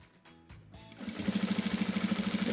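A domestic sewing machine stitches a fabric diaper bag with polyamide thread, starting after a few soft handling sounds and then running in a steady, fast rhythmic whir of needle strokes, close and moderately loud.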